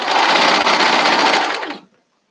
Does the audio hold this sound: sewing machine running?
yes